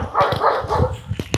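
A dog barks in a few short, sharp bursts, loud and close, with no voices over it.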